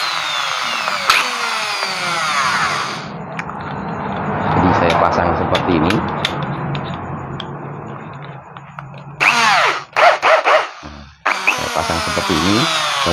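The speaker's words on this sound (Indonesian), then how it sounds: "Membersihkannya saya langsung menggunakan bor ya." An electric drill is used to clean carbon deposits off a motorcycle engine valve stem, whirring in sustained bursts, then stopping and restarting in short revs near the end, with someone talking between.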